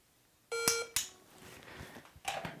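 The Mantis X10 Elite dry fire timer gives a short, high electronic beep, followed by a few faint clicks and soft handling noises nearby, quiet overall.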